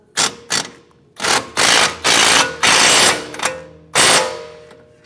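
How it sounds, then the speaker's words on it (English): A sway bar link nut is snugged down on the front strut of a 2010-2015 BMW X1 xDrive, heard as several loud rattling bursts of a power ratchet or impact tool, each about half a second long, close up. "Holding the back side of the sway bar link, go ahead and snug down the nut."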